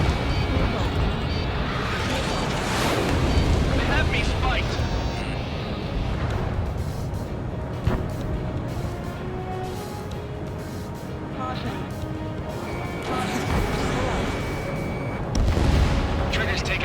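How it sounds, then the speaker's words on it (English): An Ace Combat 7 fighter jet fires a missile that streaks off and explodes, a long stretch of roaring engine noise and booming, artillery-like blasts with steady rumble, while pilots talk over the radio throughout. "Missile launched."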